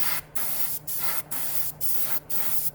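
A paint spray gun test-sprays a light coat on a 1956 Ford, five short bursts of hissing spray with brief pauses between, close and loud.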